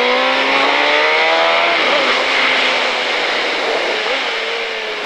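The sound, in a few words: KTM Superduke 2005 motorcycle accelerating on race track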